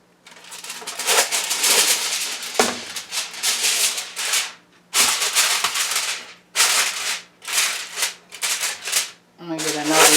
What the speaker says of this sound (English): Okay, I have some aluminum foil here.